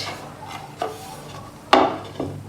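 Heavy plates being handled and set against one another, giving a few sharp clinks and knocks with soft rubbing between them, close and fairly quiet.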